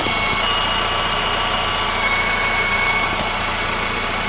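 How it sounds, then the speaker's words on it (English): The 1.8-litre engine of a 2015 Honda Civic idles close by with a smooth, steady hum and a faint, even tapping, unbroken from start to finish. "engine sounds really, really good"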